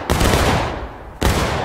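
A rifle volley in War of Rights, the American Civil War game: one massive close crack of many muskets firing together, a reverberant tail, then a second loud volley about a second later.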